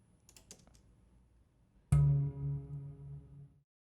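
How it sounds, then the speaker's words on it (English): A small finger cymbal and a hang drum: a few faint light ticks, then one struck note with a bright shimmering attack and a warm, ringing low tone that decays over about two seconds, heard alone. "we chose a small finger cymbal and a hang drum to kind of act as a cymbal on the downbeat"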